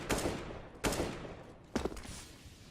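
Three spaced Mag 7 shotgun blasts in CS:GO on the Train map, each a sharp broadband crack with a short decaying tail, evenly separated and fairly quiet.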